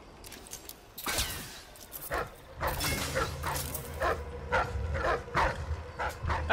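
Dogs bark and yip in a stealth video game, several sharp bursts at middle distance over low ambient rumble, with some whimpering between barks and no talk.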